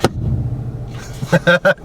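A 2013 Subaru XV Crosstrek engine rumbles in the background, then a few sharp knocks land on the hollow interior armrest, each ringing briefly with a drum-like resonance.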